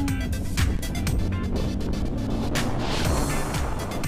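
A motorbike cruises along an empty, quiet road, its engine droning steadily close to the rider with wind rushing past and brief rises and dips in pitch. Nothing else intrudes.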